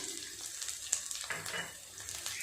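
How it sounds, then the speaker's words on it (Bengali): Vegetables, cashews and raisins frying in a pan for chira pulao, with a soft continuous sizzle and light scraping as they are stirred, fairly quiet throughout. "এগুলো একটু নেড়ে চেড়ে ভেজে নেব দিয়ে দেব কাজু আর কিশমিশ"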